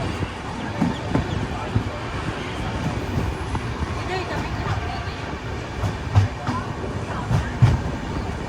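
Yoga Express passenger train running near Gandhinagar station, a loud continuous rumble of wheels on rails with rhythmic clicks and rattles from inside the carriage.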